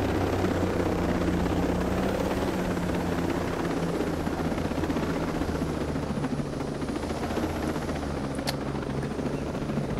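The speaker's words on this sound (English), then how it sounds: "Come on, chopper." A helicopter in Ghost Recon Breakpoint drones steadily and loudly throughout, with a constant rotor thrum and a broad engine roar. One brief sharp click comes near the end.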